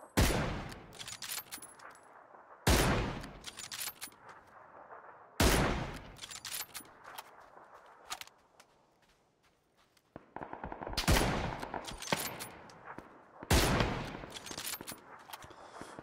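Bursts of automatic gunfire from the battle-royale game PUBG, loud and close, firing in repeated volleys of a second or two with brief pauses between, no talking over them.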